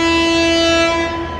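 A passenger train sounds its horn on departing Howrah: one long, loud, steady tone that holds throughout and fades slightly at the end.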